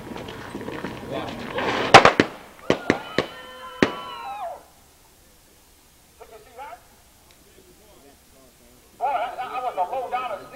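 Gunfire sound effect in a Western frontier-town radio drama: a rapid volley of sharp, loud shots with ringing echoes, then quieter scattered pops and a burst of noisy commotion near the end, with voices under the action.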